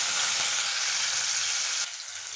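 Onions sautéing in hot oil in a pan while cooking dum biryani in a pressure cooker, a steady close bright sizzle that drops slightly in level near the end, with no talking.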